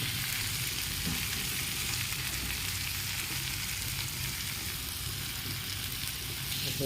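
Malabar spinach (poi) greens frying with potato and tomato, a steady close sizzle and crackle of oil running without break throughout.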